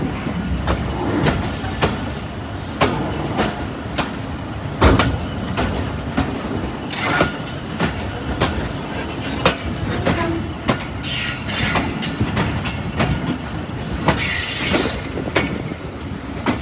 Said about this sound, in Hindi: 9:40 पे इंटर हो रही है फुलरवान रेलवे स्टेशन पे, जबकि इसका शेड्यूल टाइम 9:10 है।